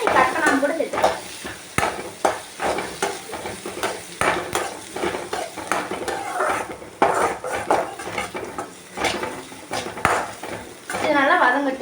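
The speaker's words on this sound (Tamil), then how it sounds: "இது நல்லா வதங்கட்டும்." Sliced onions sauté in a pan for a Chettinad chicken gravy, a utensil stirring and scraping with repeated clinks against the metal over a steady, soft sizzle.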